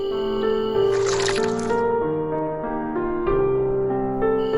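Water poured into a seed in a children's forest story, a wet dripping, squishing pour that runs under a soft tonal music bed throughout.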